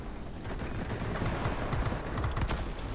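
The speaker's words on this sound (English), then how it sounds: "These are cannons, so they will overheat." Rapid bursts of cannon fire from an I-210 fighter plane in World of Warplanes crackle continuously over engine roar, a dense, loud stream of shots lasting the whole stretch.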